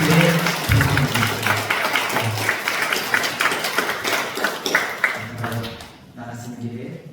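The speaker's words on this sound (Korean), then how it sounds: "여러분 권사님 보시면 박수 한번." A church congregation at a Sunday service claps in applause, a fairly close, busy patter of hands, with voices speaking over it and the clapping thinning out near the end.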